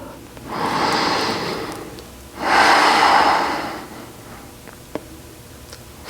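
Two slow, deep breaths taken while holding a yoga pose, each a long airy rush lasting over a second, close and fairly loud, followed by quieter stillness with a faint click.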